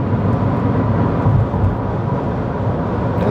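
A Smart ForFour W453 rear-engined city car rolls onto a short stretch of tarmac, giving a steady broadband road and tyre rumble with wind noise from the large door mirrors, continuous and fairly loud from inside the cabin.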